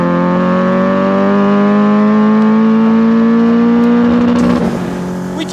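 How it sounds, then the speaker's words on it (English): A Peugeot 309 GTi engine revs hard and climbs steadily in pitch up to the limiter, loud and close, then cuts and drops away near the end. "The way this thing revs out."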